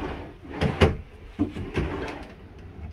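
Drawers in a RiverStone 39RKFB fifth-wheel RV slide open and shut, several quick thuds and rattling slides close by over about three seconds, with no talking.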